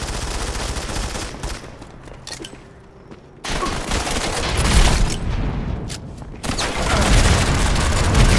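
Loud, close gunfire and explosive booms from a Modern Combat 5 first-person shooter match, with dense, continuous bursts that briefly drop out before resuming heavily.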